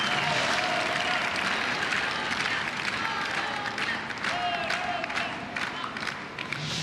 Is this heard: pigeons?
no